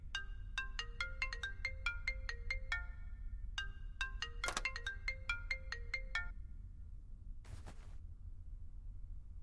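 A mobile phone ringtone plays a bright, repeating melodic phrase in two bursts, loud and clear over a low background rumble, with a sharp thump or bang briefly cutting in between.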